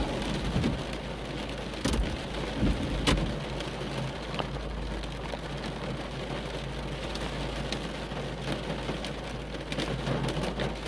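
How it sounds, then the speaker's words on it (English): A storm rolling into Adelaide, South Australia, from the Adelaide Hills brings steady, loud rain drumming close by. Deep thunder rumbles sit underneath and a few sharper cracks break through, with no voices. "here comes the rain again"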